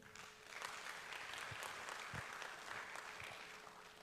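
Audience applause at the closing ceremony of the third LAEA conference, a steady sustained clapping from a seated crowd that holds at an even level throughout, with a few louder nearby claps standing out.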